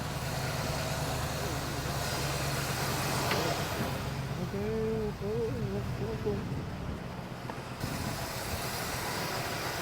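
A Chevelle engine with a rebuilt Rochester 2-jet carburetor idles steadily in a garage, a constant low rumble throughout with a voice talking over part of it.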